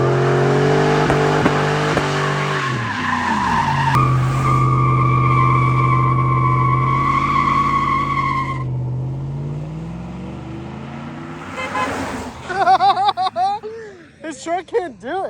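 A 5.3-powered pickup truck revs hard, its engine note climbing and falling loud and close, with exhaust pops and skidding tire sounds near the end.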